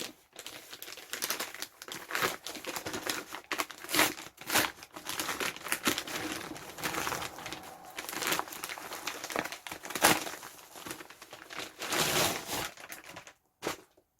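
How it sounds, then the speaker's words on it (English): Paper and plastic packaging rustles and crinkles as a crochet subscription box is opened by hand, quiet, close and continuous with uneven bursts, ending in a brief pause. "Cue lots of rustling."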